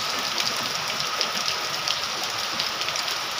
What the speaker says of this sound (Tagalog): ito yung bagyo, guys.